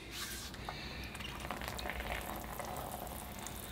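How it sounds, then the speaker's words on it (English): Warm rainwater poured onto a desert rose bonsai forest in a greenhouse, a continuous close trickling and splashing with a fizzing, bubbling texture throughout. "All right, here I go with the water."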